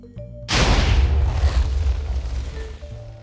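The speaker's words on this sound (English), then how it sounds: "So now all of the 80 TNT blocks find themselves neatly packed into a single block behind our charge, firing it into oblivion" An 80-TNT cannon in the Minecraft Create mod fires its charge, giving one sudden loud explosive boom that rumbles and slowly decays over a few seconds.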